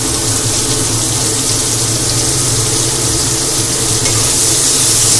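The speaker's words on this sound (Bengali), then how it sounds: "এই পেঁয়াজটা আমি তেলের মধ্যে দিয়ে দিলাম।" Finely chopped onion dropped into hot oil in a pan over a gas flame, giving a steady, loud, close sizzle that holds evenly throughout with no voices.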